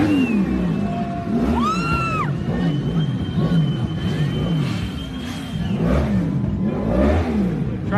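Motorcycle engines rev loudly and repeatedly during a street riot in Montreal, rising and falling over a constant roar of traffic, with a high whine sweeping through the middle.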